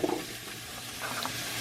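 Ingredients for a bean and ham soup with kale sizzle in a hot pot, a soft steady frying hiss close by with faint stirring.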